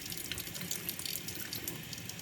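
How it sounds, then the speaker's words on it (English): Tap water runs steadily into a sink while makeup brushes are rinsed under it, a continuous splashing hiss with no voices. "Run it under the water, and no product is coming out."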